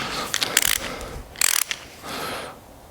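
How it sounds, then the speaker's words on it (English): A torque wrench ratchets in short bursts of rapid clicks while tightening bolts on a Pan America motorcycle, with quieter mechanical handling between bursts. "we need another torque to actually be able to tighten everything"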